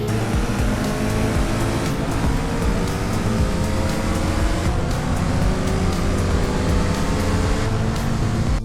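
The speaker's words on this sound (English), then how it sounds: "I added realistic car sounds. Now every car actually sounds different" Modded realistic car engines from GTA San Andreas roar continuously and loudly, a dense racing drone with shifting revs and tire noise, heard alone without talk.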